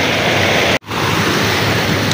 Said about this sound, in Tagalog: Lakas ng tubig mga kayo-crop.